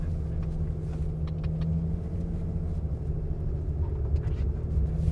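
A steady low engine rumble from inside a moving new pickup truck replacing an F-150, constant and droning with faint rattles, no voices.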